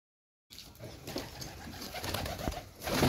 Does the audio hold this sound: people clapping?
no